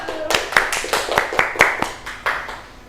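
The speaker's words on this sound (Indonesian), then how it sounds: "Tepuk tangan untuk kita semua." A group of schoolchildren in a classroom claps in unison, about ten sharp, rhythmic claps close by, with voices mixed in.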